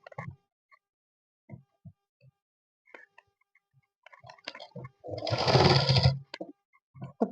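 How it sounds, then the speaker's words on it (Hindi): A sewing machine stitches along a fabric strip on a kaftan in one steady burst of about a second, with soft handling clicks and fabric rustle before and after it. "अब मैं इस तरफ की पट्टी पर सिलाई लगाऊंगी"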